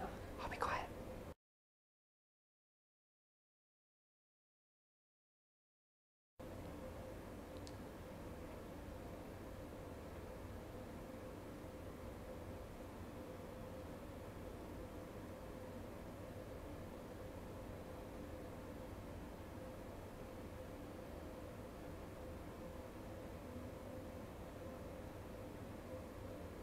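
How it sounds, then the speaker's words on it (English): Quiet room tone in an indoor space: a faint, steady broadband hiss with a low hum, broken by a brief dead-silent gap and a small click near the start, with no talking. "I'm going to just capture the sound of the room for 20 seconds."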